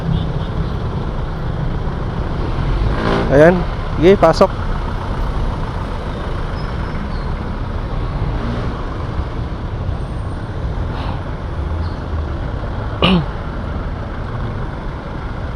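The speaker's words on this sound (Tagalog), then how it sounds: "Ang tindi ng traffic pala dito." Heavy road traffic near Sapote Market in Parañaque, with trucks and buses: a constant loud engine rumble and road noise, with sharp air brake hisses now and then, while people talk over it.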